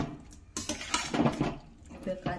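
Spatula scraping and clattering in a pan as potatoes with pumpkin and prawn curry are stir-fried, the metallic knocks close and uneven, with a voice murmuring faintly between them.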